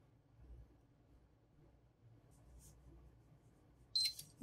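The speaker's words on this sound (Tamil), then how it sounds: "Third beep." A PS3 console gives one brief, high electronic beep while its power button is held. The beep comes at the end after several seconds of quiet room hum.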